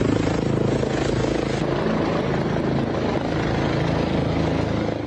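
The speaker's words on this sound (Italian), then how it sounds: "L'elicottero che arriva," Rescue helicopter arriving at an accident scene, a steady, loud rotor roar with fast, even blade chop throughout, close and unbroken.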